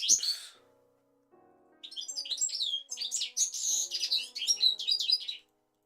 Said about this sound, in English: I can already hear the birds excited for this thing.